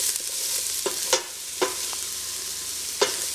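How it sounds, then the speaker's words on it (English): Garlic sweating in a pan gives a low, quiet sizzle, broken by several sharp spoon-on-pan scrapes and clicks spaced irregularly. "Start with the garlic. Just want to sweat it out a little bit"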